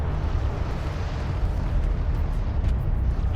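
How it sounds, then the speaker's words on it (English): Dense, continuous low rumble of artillery explosions rolling through a battle in the strategy game Homeworld: Deserts of Kharak, booming steadily at moderate loudness with no talk. "There we go, the artillery's going to work there"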